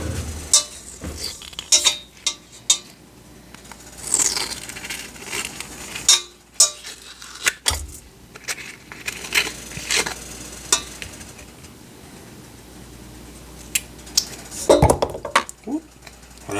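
A knife cuts open a ripe avocado, followed by clinks and scrapes of utensils against a bowl as the flesh goes in, in an irregular series of sharp kitchen knocks with quiet background between them.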